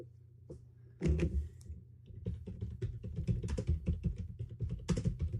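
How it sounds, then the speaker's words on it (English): Fast computer keyboard typing, dense irregular key clicks after a brief pause, close and crisp, with no talking. "Those are authentic keyboard typing noises."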